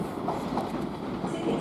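London Northwestern Railway Class 350 electric train departing Crewe station, a steady rumbling roll with faint clattering and hiss, heard at moderate distance as one continuous wash.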